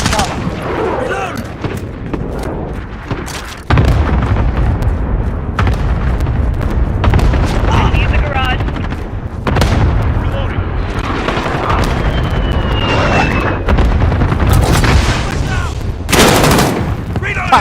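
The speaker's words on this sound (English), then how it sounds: "Enemy cluster strike. Take cover." Cluster-strike explosions in a military shooter video game boom and crack in rapid bursts alongside gunfire, loud and dense, with sharp blasts recurring through the stretch.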